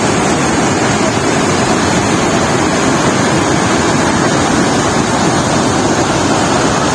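Water rushing at Pykara Falls near Ooty, a loud, dense, continuous roar with steady wind-like hiss throughout, no voices.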